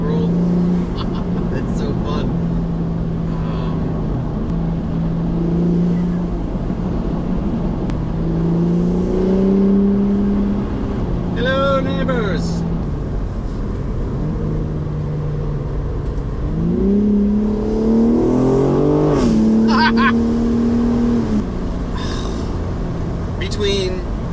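A BMW G82 M4 fitted with an Armaspeed cold air intake pulls hard in fourth gear, its engine note climbing in rising sweeps with intake roar, while a voice talks over parts of the run.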